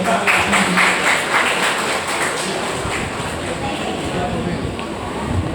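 A crowd at a university yudisium graduation ceremony applauds with dense, brisk clapping that is strongest at first and then settles into a softer, steady patter.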